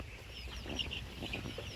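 Sonali chickens on a farm clucking softly at a distance, a few short calls rising over a low background hum.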